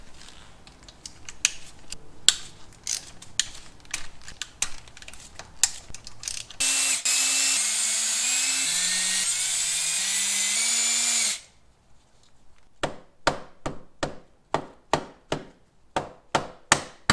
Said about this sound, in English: With the fairing off, now we can get to all of the 8mm perimeter bolts.